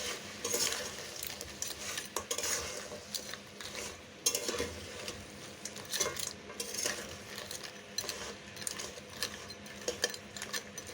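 Crab pieces with salt and turmeric fry in a pan for crab curry, giving a continuous soft sizzle with frequent scraping and clicking of a spatula stirring, close and fairly quiet.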